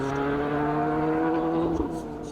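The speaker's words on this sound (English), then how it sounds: "The hills were alive with the sound of finely tuned engines" Rally car engines drone steadily on a hillside stage during the Circuit of Kerry round of the Irish National Rally Championship, a loud, close, continuous tone with a slight shift toward the end.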